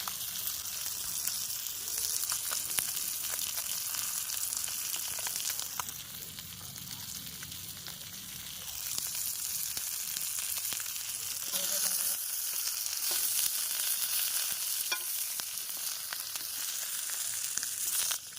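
Fish sizzles and fries on a hot tawa, a steady dense crackling hiss that holds at an even level from start to finish with no voices over it.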